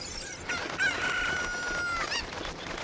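A cucco chicken crowing in The Legend of Zelda: Ocarina of Time Master Quest, one drawn-out cock-a-doodle-doo, close and clear, with a few clucks around it.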